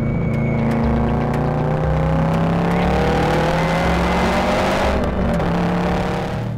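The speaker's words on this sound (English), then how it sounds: "and a loud exhaust" A car with coilovers and a loud aftermarket exhaust revs and drives, a steady heavy engine roar with rising pitch sweeps as it accelerates through gears, loud and close throughout with no talking.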